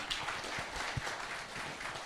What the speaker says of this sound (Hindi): सबसे पहले बजनी चाहिए जोरदार तालियां।